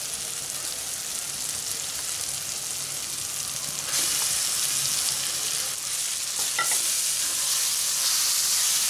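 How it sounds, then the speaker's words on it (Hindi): Roasted, mashed eggplant goes into a hot pan with cumin powder for village-style baingan bharta, setting off a steady, loud sizzle and frying hiss that swells partway through, with occasional stirring scrapes. "अब ये बैंगन डाल देंगे जो हमने भुने हुए हैं।"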